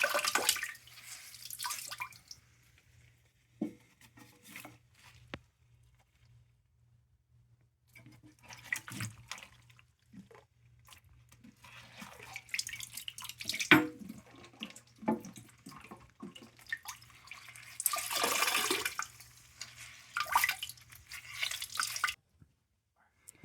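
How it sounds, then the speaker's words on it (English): Bursts of water splashing and trickling as a sponge is squeezed out into a toilet bowl, repeated in uneven spurts between quiet pauses, close but fairly soft, with a faint steady hum underneath. "Then I'll just squeeze the water right into the toilet bowl and just keep repeating that till it's done."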